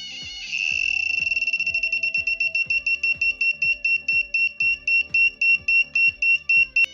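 A 5V active piezo buzzer beeps in a fast shrill series of pulses that slow into a steady regular rhythm, loud and close, with a faint ticking underneath.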